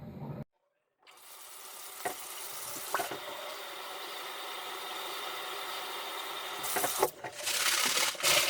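Dirty brass-cleaning water being poured out into a bathtub, a continuous close splashing rush after a brief silent gap, with a few clunks and a louder gush near the end.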